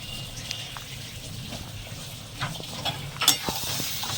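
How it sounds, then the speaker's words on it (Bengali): A vegetarian dish seasoned with turmeric and sugar is stirred and fried in oil, producing a close, continuous sizzle with scraping stirs that grow a little louder toward the end, without speech. "সুন্দর হাতে মিশিয়ে নেব ততক্ষণ পর্যন্ত যতক্ষণ তেল না ছাড়বে"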